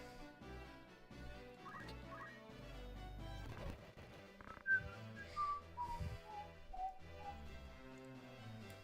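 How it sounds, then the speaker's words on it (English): A person whistles a short melodic tune mid-session while playing a tactics video game. The notes come in clear, separate bursts in the second half, mixed with steady background sound. "Sorry, I keep forgetting that I'm whistling."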